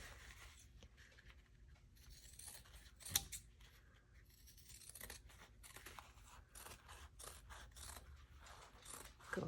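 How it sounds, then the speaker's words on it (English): Fabric shears snip through a sewing project's seam allowance around the plackets and collar, a run of quiet, irregular cutting clicks and blade rasps close by with no talk. "grab your shears and I want you to trim all of that seam allowance"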